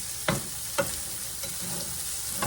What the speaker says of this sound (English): now I'm going to start mixing it up